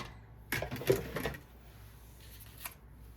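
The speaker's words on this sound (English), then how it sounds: "I'm going to be using the Notes of Nature dies for this small one. I'll just die cut that." A die-cutting machine cranks card through with Notes of Nature dies, a short burst of rolling, clicking mechanical noise lasting about a second, followed by quieter handling and a faint click.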